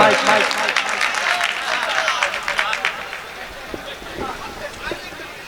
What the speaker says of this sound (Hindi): बिना सुने ही एडवांस में इतना ताली बज गया